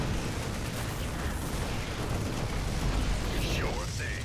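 Explosions and booms from cannons being destroyed in the StarCraft 2 video game, a dense rumbling burst of blasts with crackling debris that continues steadily, with game sounds around it.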